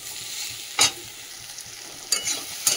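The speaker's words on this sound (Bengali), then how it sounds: "এটা আলু মশলা তো ভালো করে কষিয়ে নিলাম" Potato masala with salt, turmeric, cumin and chilli powder sautéing in a pan, a steady close sizzle broken by a few sharp scraping stirs, with no talking.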